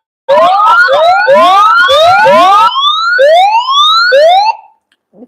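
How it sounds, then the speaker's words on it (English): A two-way radio sounds its SOS alarm, a loud, close electronic siren of repeated rising whoops that ends abruptly after a few seconds. "Long press SOS button. The SOS alarm, it will be on."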